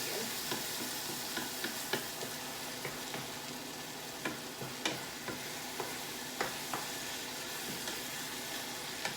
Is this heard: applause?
no